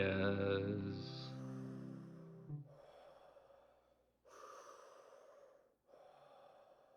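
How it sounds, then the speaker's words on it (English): Close, heavy breathing with gasps and snorting inhales and exhales, several breaths separated by brief pauses, with a voice-like tone at the start. "There isn't normally that much heavy breathing."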